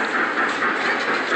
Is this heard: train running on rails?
yes